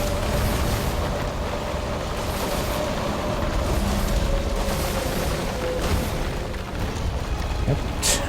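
Explosion attacks in Monster Hunter World: Iceborne, a dense continuous roar of blasts and rumbling combat noise, loud and sustained throughout, with no clear separate hits.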